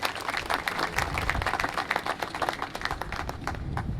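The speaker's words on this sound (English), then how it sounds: "Give her a round of applause for that right there" An audience on state capitol grounds at the Xernona Clayton statue dedication claps steadily, a dense, sustained round of applause from a crowd with no voices standing out.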